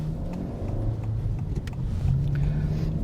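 A 2022 Honda Civic Si drives along with a steady engine drone and road rumble, the pitch climbing slightly as it accelerates near the end.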